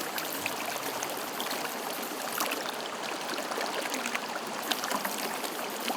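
Rushing river water in a forest, a steady broadband wash of current that holds an even, fairly quiet level throughout with no voices.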